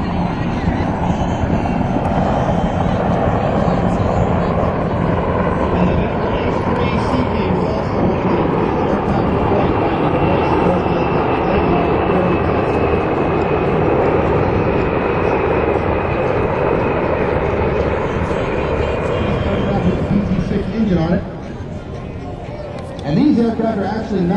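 Naval aircraft in a Centennial of Naval Aviation parade of flight, a loud sustained engine roar that swells and holds as they pass overhead, then drops off sharply near the end while an announcer talks throughout.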